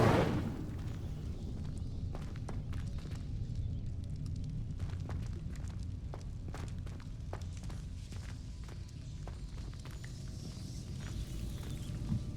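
The Incendio fire spell in Hogwarts Legacy erupts as a loud, sudden burst at the very start, then falls to a low rumbling crackle under light footstep-like taps.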